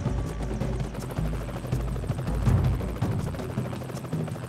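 Helicopter in the game Broforce, a loud throbbing rotor chop pulsing steadily and close for the whole stretch, with faint bursts of game action mixed in.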